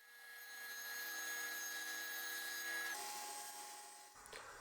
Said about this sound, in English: I'll take them over to the table saw to rip them down to their final width